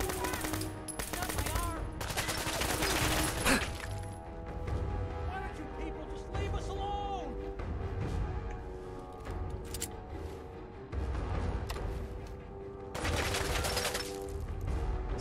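A minigun fires in a video game with a sustained rapid rattling stream of shots, loud and close, broken by brief pauses and then renewed bursts, under steady game music and effects.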